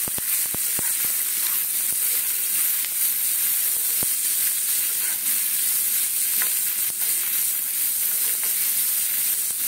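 Carrot, capsicum and potato frying in a pan, a steady close sizzle with occasional sharp crackles and spits throughout, no voices.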